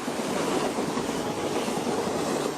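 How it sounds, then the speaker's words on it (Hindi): A train rolls steadily along the rails in India, a loud continuous rumble and roar with faint clickety-clack texture, heard alone and sustained without a break. "ट्रेनों को भागते देखा है, रफ्तार पकड़ते देखा है।"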